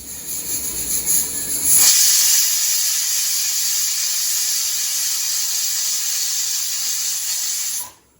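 A pressure cooker whistle releases a steady, loud hiss of steam under pressure while cooking moong dal, starting with a sharper burst and holding constant for several seconds before cutting off abruptly.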